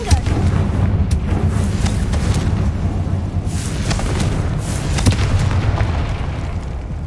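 Confringo blasting spell in the video game Hogwarts Legacy, a run of loud booming explosions and crackling bursts, several sharp hits over a rumbling low roar, close and continuous.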